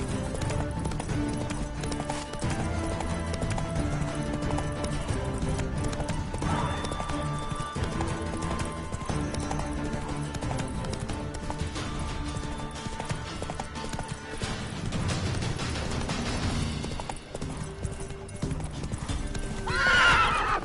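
Hooves of Roach, the horse in The Witcher 3: Wild Hunt, clatter in a fast galloping rhythm, joined by neighing and whinnies, layered over busy game sound and music with a brief voice nearby.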